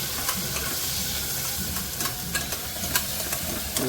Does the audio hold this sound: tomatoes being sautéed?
yes